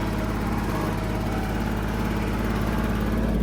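A small tractor working in four-wheel drive runs at a steady, droning pitch, close and continuous with no break.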